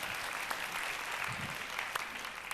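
A church congregation at a youth worship service applauds in praise, a brief, fairly quiet wash of steady clapping.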